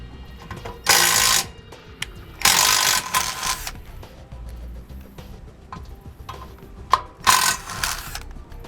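A power driver backs self-tapping screws out of stabilizer jack brackets on a trailer, three loud whirring bursts of about half a second each, separated by quiet clicks and handling noises.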